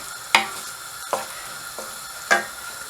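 Lamb keema with paprika frying over a high gas flame, a steady close sizzle broken by four sharp clacks of a spoon stirring against the pan, with no one talking.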